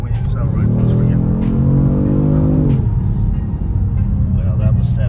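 A 2020 Kia Stinger GT twin-turbo all-wheel-drive car accelerates hard from about 38 mph: the engine note climbs for a couple of seconds, then drops back to a steady road rumble inside the cabin.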